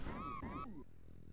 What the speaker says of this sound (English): Pretty good pickup sound.